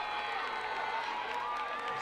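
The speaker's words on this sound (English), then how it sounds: "Listen to the crowd bringing her in, bringing her home." Crowd at a middle school track meet cheering a runner down the home stretch, a steady wash of distant shouts and whoops held at an even level throughout.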